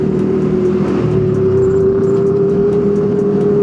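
A motorcycle engine revs steadily and loudly nearby on a Sunday morning ride in Purbalingga, Indonesia, a sustained droning exhaust note holding a constant pitch throughout.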